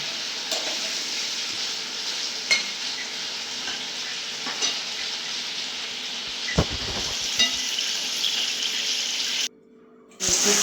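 Chicken meat sizzles steadily in hot oil in a pan while a utensil stirs it, with occasional scraping clanks near the middle and a brief break in the frying hiss toward the end.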